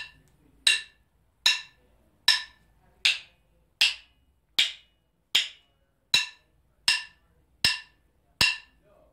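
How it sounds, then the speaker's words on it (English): Drumsticks clicked together in a steady series of about twelve sharp, evenly spaced clicks, the grip shifting between loose and tight in groups of four; each click is crisp and close with a quick decay, alone with no talking. "so that you can hear the difference between what loose sticks and what tight sticks sound like"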